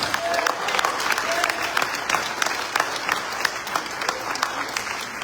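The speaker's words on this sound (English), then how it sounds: "You guys are applauding that" A crowd applauds at a political get-out-the-vote rally in Atkins, Texas, a dense sustained patter of many hands clapping close to the microphone for several seconds, with scattered individual claps standing out.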